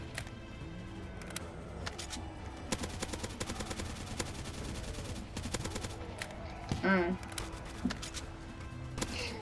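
Rapid bursts of gunfire crackle repeatedly throughout, with some automatic fire, under intermittent talking in the background, from the zombie video game Zombie Uprising.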